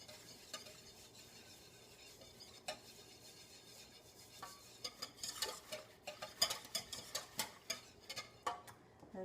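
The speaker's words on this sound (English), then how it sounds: "And I'm just going to whisk these in" Organic chia seeds whisked slowly into almond milk in a bowl, light scraping and soft ticking clinks that start sparse and grow quicker and more frequent toward the end.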